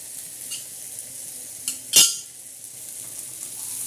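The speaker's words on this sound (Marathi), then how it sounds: "हे बघा कसं चमचमीत आणि चांगला कांदा शिजतोय." Onion softens in a pan for Maharashtrian brinjal bharit, giving a soft, low hiss with a few faint utensil touches and one sharper clink near the middle.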